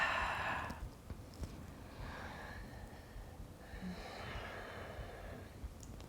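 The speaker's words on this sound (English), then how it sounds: "listen to the sound of your breath" Slow, audible breathing during a yoga session, several soft airy inhales and exhales that rise and fall over a quiet room tone, gentle and close with no talking.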